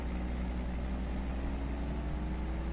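A low-speed race car in Project CARS 2 on PS4 at a Spanish circuit drones steadily at a low pitch, a constant, quiet engine hum with no talk over it.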